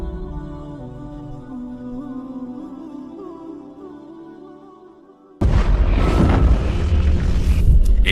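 A sudden, heavy explosion sound effect bursts in after a sustained musical drone, a loud, dense rumble and roar that carries on to the end.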